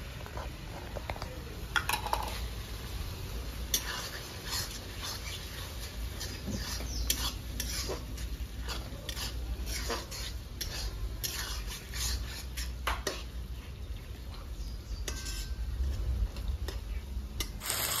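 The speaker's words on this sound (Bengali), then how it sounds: "এখানে কেটে রাখা টমেটো দিয়ে দেবো" Chopped tomatoes stirred in a pan for a homestyle potato chicken curry, a continuous sizzle with repeated spoon clicks and scrapes against the metal, steady and close for the whole stretch.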